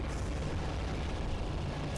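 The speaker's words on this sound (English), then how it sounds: "All the nice, fancy explosions." Fancy explosions in a space-themed GameCube video game, a continuous loud rumbling roar of blasts that fills the whole stretch without pause or distinct separate booms.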